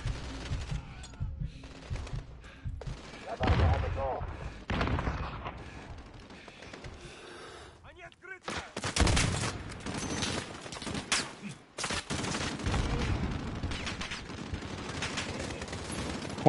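Rapid bursts of automatic gunfire and scattered single shots in a Call of Duty Modern Warfare firefight, loud and dense for most of the stretch, with a short lull around the middle before the shooting resumes.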